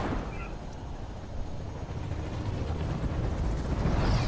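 Gunfire in Fortnite during a duos match, a dense, continuous roar of shots and blasts that swells slightly louder toward the end, with no clear gaps between bursts.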